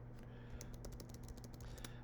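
Rapid clicks from a computer mouse while drawing paths in Adobe Illustrator, a quiet run of sharp, irregular taps over a low steady hum, close to the microphone.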